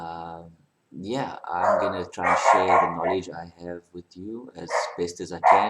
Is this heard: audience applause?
no